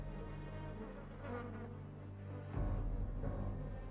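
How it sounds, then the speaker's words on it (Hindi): Flies buzz around the open wounds of a thin, sick lioness in the Ngorongoro Crater, a droning hum that becomes louder and closer partway through, with no talk. "मोजा के खुले घावों पर मक्खियां भिनभिना रही हैं।"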